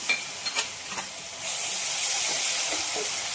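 Coarsely ground ginger-garlic chutney hits a hot pan of spiced oil for a potato paratha filling, a few clinks of stirring, then a sudden, sustained loud hiss and sizzle.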